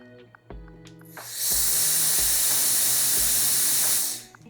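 An X7 turbo jet fan with its nozzle removed spins up into a loud, steady rushing blast of air lasting a few seconds, then cuts off, with a few faint clicks before it starts.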